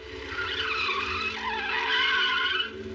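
Cartoon cars skid to a halt at a road crossing, a sustained screech of squealing tires lasting about three seconds, loud and alone without talk.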